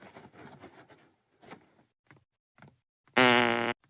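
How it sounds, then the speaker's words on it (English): Fart sound effect from an Adobe Flash video game, a single loud, buzzing blast lasting about half a second, following brief bits of quieter sound. "Hey, I do the farting."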